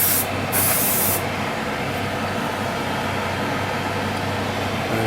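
Tamiya paint is sprayed onto a Revell Imperial Shuttle model kit. A short, loud hiss of spray is followed by a steady, close airy rush of air that continues to the end.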